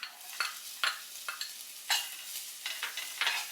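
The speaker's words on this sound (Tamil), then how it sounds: "இப்போ நான் ஆனியன் போட்டுறேன்." Onions sizzle in hot oil in a pan for honey chilli potato while a spatula stirs them in quick, uneven scraping strokes over a soft, steady frying hiss.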